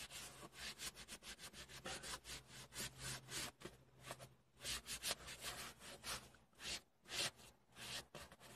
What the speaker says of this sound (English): really sort of rubbing it in well, and it's drying almost as fast as you're rubbing it in.